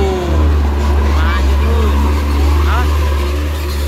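A Hino dump truck engine drones loudly and steadily nearby, a deep rumble that holds throughout as voices talk over it.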